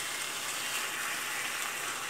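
Salisbury steak sizzling in a cast iron pan, a steady, fairly quiet hiss of frying fat with faint crackles and no pauses.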